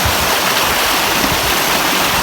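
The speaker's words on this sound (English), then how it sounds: "Beautiful rapids leading down to the lake." The Hurricane River's rapids rush down toward the lake at Pictured Rocks on a September day, a loud, steady, close roar of churning water with no talking.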